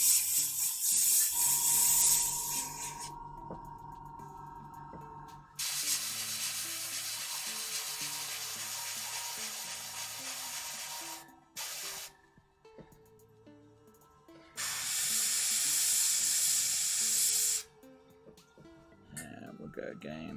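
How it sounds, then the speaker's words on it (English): An airbrush sprays slight coats of paint onto Necron miniatures in three long hissing bursts separated by quieter pauses, with a person talking in between. "And because I'm going through the airbrush, it will dry quickly."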